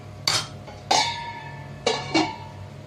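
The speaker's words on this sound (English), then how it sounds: "So I'm going to cover the lid" A metal lid is set onto a pot of Kerala-style mutton stew, giving four sharp clinks and clatters in two pairs, each ringing briefly before fading into a quiet kitchen.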